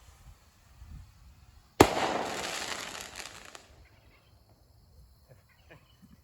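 Fireworks set off to imitate an RPG launch give one sudden loud bang, then a hissing rush that fades over about two seconds. Quiet outdoor ambience comes before and after it.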